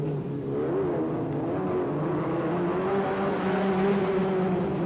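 Speedcars racing at Fraser Park Speedway in Canberra during 1989 heat races, a steady droning pack of engines circulating at a distance, continuous and even with slight rises in pitch.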